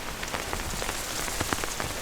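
Steady rain on a quiet residential street, an unbroken close hiss dotted with crisp drop impacts, alone without talk.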